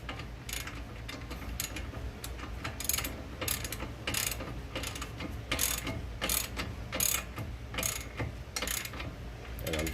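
A ratchet clicks rapidly in short bursts while snugging up a front strut bolt on a Nissan Maxima, with quiet close-up mechanical ticking and no talk.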